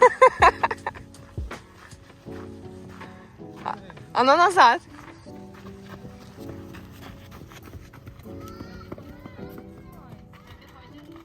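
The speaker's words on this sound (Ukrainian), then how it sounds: "Ой, то осел." A donkey moving about in a park in Shevchenko Grove gives a loud, brief braying call midway, amid scattered footsteps and rustling, while people talk nearby before and after.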